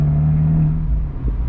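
An Abarth 124 Spider's exhaust drones loud and close with a deep, steady engine note, then dips and swells briefly as the revs shift near the end.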